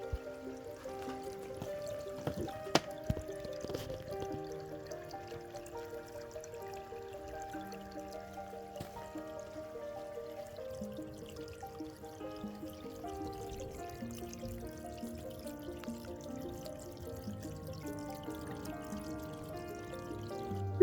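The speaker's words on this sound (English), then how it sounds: "Finally, of course, the stream water feature is a big hit." A small stream water feature trickles gently in an outdoor nature enclosure for ferrets, a faint, continuous pouring and dripping with a few brief louder splashes early on.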